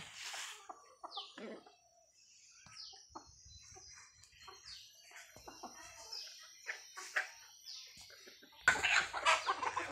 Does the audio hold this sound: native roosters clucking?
yes